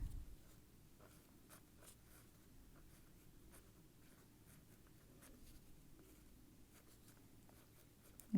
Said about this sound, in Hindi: यहाँ पर आप लिखेंगे